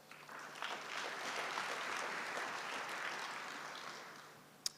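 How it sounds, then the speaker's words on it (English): Graduation ceremony audience applauding in a hall, a full burst of many hands clapping that rises quickly, holds steadily, then thins out, ending with a single sharp knock. "A round of applause."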